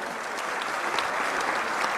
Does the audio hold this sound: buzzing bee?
no